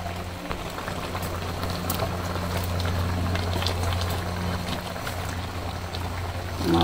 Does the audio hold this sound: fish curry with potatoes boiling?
yes